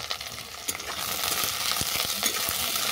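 Eggplant, potato, tomato and green chili fry in a pan with lightly browned onion, a close, bright sizzle that swells after the first second, with repeated stirring scrapes and no voices.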